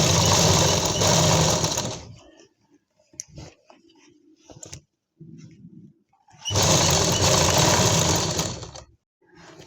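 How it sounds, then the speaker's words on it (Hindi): Sewing machine stitching a fabric strip onto a palazzo pants hem, two long loud runs of rapid steady whirring separated by a quiet gap of handling clicks and brief hums. "अब हम इसको यहाँ से ऐसे सिलाई लगाना शुरू करेंगे आधे इंच के दबाव से।"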